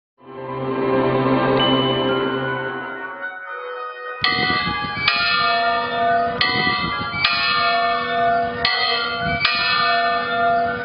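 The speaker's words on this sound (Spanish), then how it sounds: "la población de Tepotzotlán volvió a escuchar las campanas del reloj mecánico" The eighteenth-century mechanical clock in Tepotzotlán rings its bells loudly: a long ringing tone fades, then a run of evenly spaced strikes follows, each one resonant and overlapping the last.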